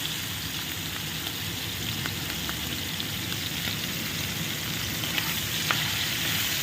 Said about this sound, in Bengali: চিংড়ি মাছগুলো নুন হলুদ মাখিয়ে রেখেছি, এটাকে সুন্দর করে আমি ভেজে নেব